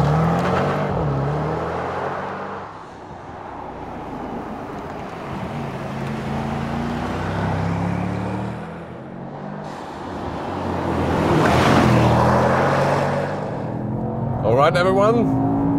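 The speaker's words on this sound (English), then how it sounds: "Here we go, racetrack driving, 200 kilometers an hour, 125 miles an hour" A Mercedes-AMG GT 4-door 63 S E Performance hybrid drives on a racetrack at high speed, its engine note rising and falling with shifts as it accelerates. Wind roar builds along with the engine, and someone talks over the sound.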